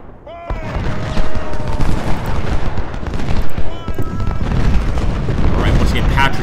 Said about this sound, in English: Shoot them, boys. And we're just using standard rifles